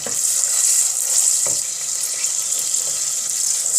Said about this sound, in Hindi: प्याज को ऑयल के अंदर शामिल कर देंगे।